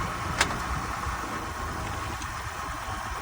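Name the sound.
car engine running after a jump start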